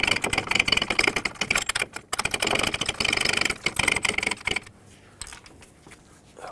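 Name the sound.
tightening ball joint nut with a ratchet wrench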